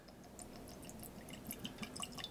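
Whiskey is poured into a glass, a faint, soft trickle with small dripping splashes that thicken toward the end, heard close in a quiet room.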